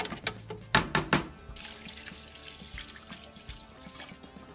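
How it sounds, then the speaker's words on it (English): Tap water running into a pot of chicken adobo: a few loud clunks at the start, then a steady pouring and splashing stream that continues to the end. "you wanna add just enough water to cover the chicken"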